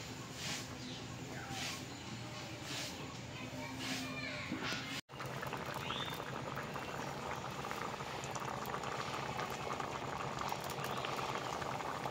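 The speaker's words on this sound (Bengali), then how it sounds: "এবার খুব ভালো করে আগে এগুলোকে সব সেদ্ধ করে নেব।" Lentils with salt and turmeric boil steadily in a pot, a continuous bubbling simmer heard close and moderately loud for the whole stretch, with a brief break partway through.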